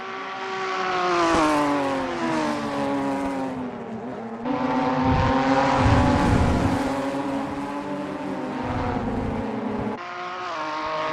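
A Ginetta G55 SuperCup race car at Thruxton circuit accelerates hard, the engine note rising and dropping through gear changes in a loud, sustained roar with no voices.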